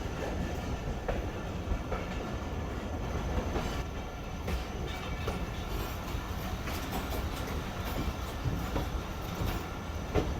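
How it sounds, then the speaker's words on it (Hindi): Train pulling out of Landi junction, a steady loud rumble of coaches and wheels on rails that holds for the whole stretch, with faint squeals and clacks, no voices. "ट्रेन हमारी लांडी जंक्शन से निकल रही है"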